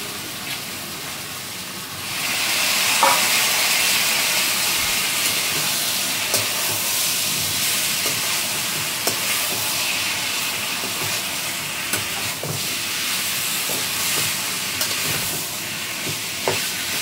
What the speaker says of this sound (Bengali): এবার আমি দিয়ে দেবো চিকেনটা।